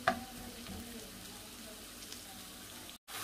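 Onion cooking in a pan for a seafood burger, a steady soft sizzle and crackle close by, faint and continuous with a brief cut near the end.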